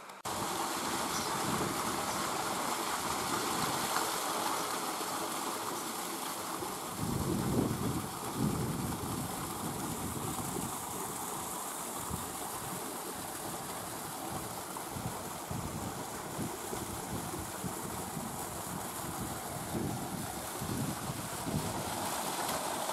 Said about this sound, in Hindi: यहाँ से चालू होगा पानी के साथ मोटर चल रही है।